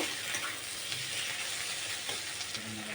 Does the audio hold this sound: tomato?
yes